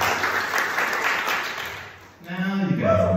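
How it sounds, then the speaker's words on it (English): An audience at a poetry and jazz show claps in a dense burst of applause for about two seconds. The applause fades and then a voice speaks. "If it sounds good, can everyone clap?"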